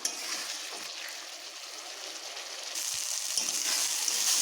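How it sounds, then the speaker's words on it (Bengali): Spice masala with chopped tomato frying in a pan for biryani, a soft continuous sizzle that rises slightly partway through, with no talking. "এই মশলাটিকে আমি বেশ ভালোভাবে এখন ভাজতে থাকবো।"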